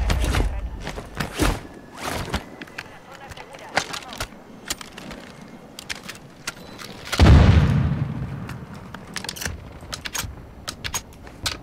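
Gunfire bursts from an elevated position in a first-person shooter game, scattered sharp cracks repeating throughout with a heavier blast midway, under ongoing voices of players talking.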